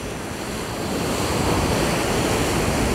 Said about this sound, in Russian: Прямо на берегу моря живешь.